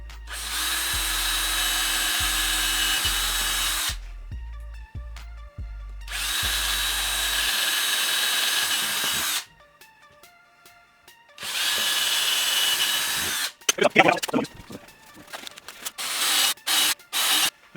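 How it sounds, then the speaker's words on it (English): A power drill whirs loudly in several long bursts, spinning up and stopping, with clicks and scraping of bits enlarging holes in a DIY electric skateboard battery enclosure between runs. "Let me go ahead and just make bigger holes now."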